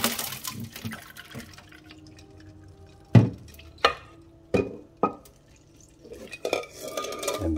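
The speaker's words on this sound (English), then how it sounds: "So now you pour all the water and the ice off." Water and ice being poured off freshly boiled eggs in a kitchen, with liquid sloshing and several sharp clinks and knocks of ice and eggs against the pot, spaced irregularly and close by, with no talking.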